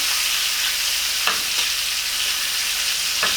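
Blackened herbed rib steak sizzling in a hot pan while being basted with onion and garlic, a loud constant hiss of frying fat broken by a few brief spoon scrapes.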